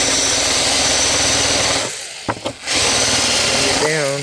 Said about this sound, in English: Now I'm going to go to the back side and countersink those.